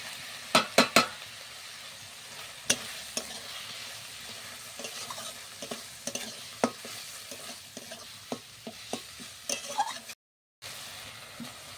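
Onion and garlic frying in a pan for a prawn malai curry, with a steady sizzle under repeated sharp clinks and scrapes of a spoon stirring against the pan, close and fairly loud, no talking.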